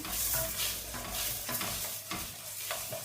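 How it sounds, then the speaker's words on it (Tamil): Horse gram dry roasting in a pan, stirred continuously so the seeds rattle and scrape in a steady, close, dense texture with a faint sizzle and no voices. "இப்போ இந்த கொள்ளை நாங்கள் நல்ல வடிவாக வறுத்தெடுத்து கொள்ளுவோம்"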